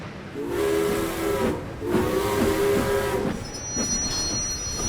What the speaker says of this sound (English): The three engines tooted and hooted with happiness.